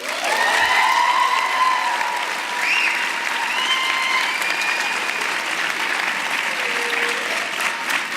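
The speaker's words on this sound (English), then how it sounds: "Candidates, please acknowledge these folks with an exuberant round of applause." Graduates at a master's commencement ceremony give a long, steady round of applause, dense clapping from a large crowd with a few whoops rising above it.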